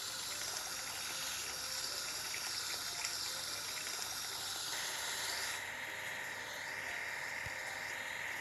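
Continuous spraying water from a truck car wash in a kids' video game, a dense steady hiss that shifts tone partway through, moderately loud with no voices.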